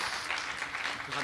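An audience at a formal event applauds in a soft, distant wash of clapping, brief and steady, with a voice faintly present over it.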